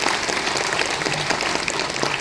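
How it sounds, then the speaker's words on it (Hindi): Applause from an audience at a Uttarakhand state silver jubilee event in Dehradun, a thick, unbroken roar of clapping holding level and close throughout. "एक बार जोरदार तालियां होनी चाहिए।"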